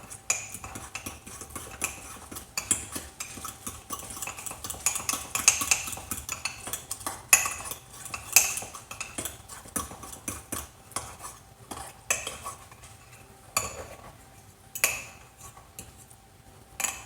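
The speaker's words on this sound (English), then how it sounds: "I'm going to give it a really good stir with a fork." A fork stirs an egg and bread mixture in a bowl, with rapid, irregular clinks and scrapes of metal on the dish continuing throughout, close and fairly loud with no talking.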